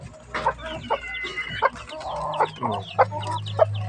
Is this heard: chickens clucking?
yes